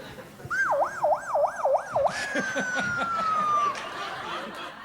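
A person vocally imitates a police siren, warbling up and down several times, then holding a long falling wail, with faint chuckles nearby.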